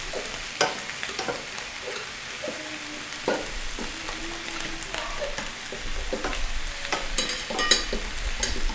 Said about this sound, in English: Our kale is mostly wilted, so I'm going to add the garlic. And give it another stir.